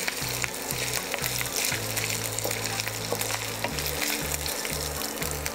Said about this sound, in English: Now we'll fry it until the dal turns slightly brown